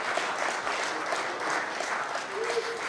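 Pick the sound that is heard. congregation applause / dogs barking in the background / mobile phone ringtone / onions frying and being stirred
congregation applause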